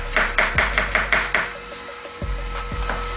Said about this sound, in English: We got onion, same thing. Nice thin slices of onion.